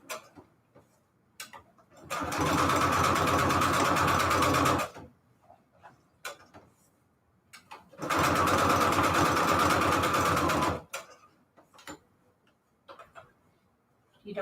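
A sewing machine stitches the border of a Christmas fabric pocket in two steady whirring runs of about three seconds each, separated by quiet clicks and handling of the fabric.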